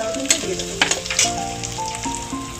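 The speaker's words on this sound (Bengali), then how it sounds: "পেঁয়াজটা একটু ভাজা ভাজা করে দিই" Onion paste frying in a pan, a close, crackling sizzle broken by several sharp spatters and stirring clatters over a few seconds.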